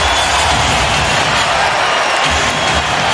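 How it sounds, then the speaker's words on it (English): Basketball arena crowd reacting with oohs and ahs to a Kyrie Irving crossover in a Cavs game, a dense, steady wash of crowd noise that holds evenly throughout. "Oohs and ahs from the crowd."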